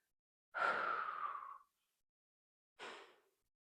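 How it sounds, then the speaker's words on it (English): Pilates lateral breathing: one long audible breath of about a second, then after a pause a second shorter breath, both close and airy against near silence. "So again, you inhale to prepare, exhale to lift"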